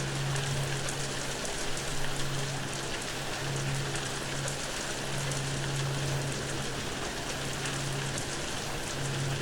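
Steady rain pattering on a surface at sea near a coast guard boat, a dense, even hiss of drops with a faint low tonal hum running underneath, no voices.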